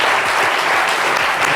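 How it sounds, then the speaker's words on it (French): Dense, loud audience applause filling the whole stretch, many hands clapping close and continuously with no voices. "On les applaudit bien fort,"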